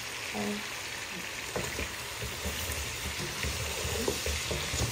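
Onion frying in oil with seven spices, bay leaf, loomi and black pepper, giving a steady, dense, close sizzle with crackling that stays even throughout.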